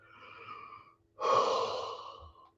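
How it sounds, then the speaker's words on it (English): A quiet breath in, then a long, breathy exhale with a voiced, drawn-out tone, close and alone, like a yawn. "I hate yawning in the middle of the stream"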